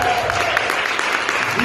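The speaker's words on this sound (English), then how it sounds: "please give them a round of applause" An audience claps steadily for the whole moment, a dense, even wash of many hands close by with no pauses, and a faint voice underneath.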